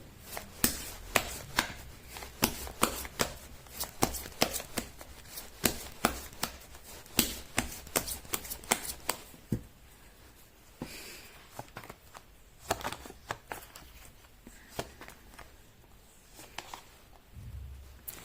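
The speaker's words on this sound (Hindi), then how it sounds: "मैं कर लेती हूँ कार्ड की शफलिंग।" Tarot cards are shuffled by hand in quick, crisp riffles and taps, a busy run of sharp clicks that thins out and grows sparser toward the end, with no talking.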